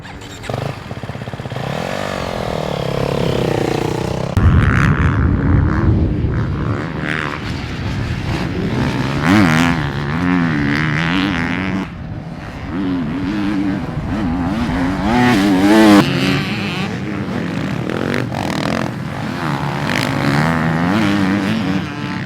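A 2023 GasGas MC 250F Factory Edition dirt bike is ridden at Glen Helen Raceway in Southern California, its four-stroke engine loud and close, revving and shifting continuously with rising and falling pitch for the whole stretch.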